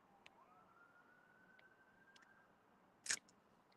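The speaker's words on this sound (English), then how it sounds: "You guys hear the ambulance or the cop?" A faint ambulance or police siren rises and holds steady somewhere in the distance outside a house against quiet background noise, followed by a brief sharp click near the end.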